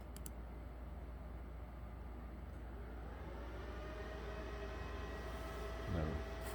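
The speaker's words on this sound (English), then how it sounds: "The fan just came on my battery charger" A car battery charger's cooling fan runs as a steady, even whir throughout, close and moderately loud, with a brief faint tonal sweep near the end.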